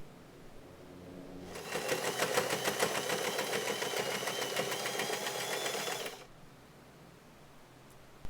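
A sewing machine stitches a pink satin bow in one steady, rapid run of about four and a half seconds, fairly loud and close, starting and stopping abruptly against a quiet room.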